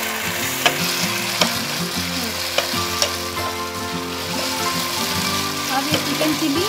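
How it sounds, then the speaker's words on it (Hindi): Chicken fries with masala for chilli chicken, a loud, steady sizzle under tonal background hum, punctuated by sharp clinks and scrapes of a ladle stirring the pan. "फ्राई कर लेंगे अच्छे से, जब तक ये मसाला पूरा अच्छे से चिकन के अंदर न जाए"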